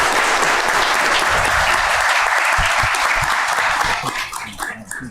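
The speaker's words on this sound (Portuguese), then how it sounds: "Podemos bater uma salva de palmas para essas pessoas?" Audience in a city council session in Caieiras gives a round of applause, dense steady clapping from many hands that tapers off near the end.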